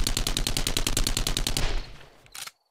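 Rapid-fire rifle shots in 7 Days to Die, a dense burst of about a dozen loud, evenly spaced cracks that tails off into a brief echo, then one last short shot before silence.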